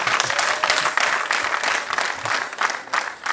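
Applause from an audience at a wedding hall greets an arriving guest, steady dense clapping throughout with no pauses, loud and close.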